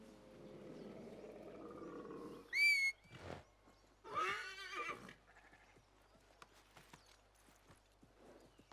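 A horse in Assassin's Creed Mirage whinnies twice: a short, high neigh, then a longer, wavering one a second later, both fairly close and rising over low game ambience.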